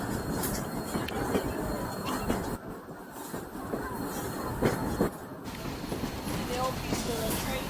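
Steady rumble and rattle inside a moving train carriage, wheels clacking under a constant low roar, with a brief shift in the noise midway and faint voices at times.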